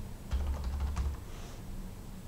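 Quick burst of keystrokes on a computer keyboard, close and fairly quiet, lasting about a second before the room falls still.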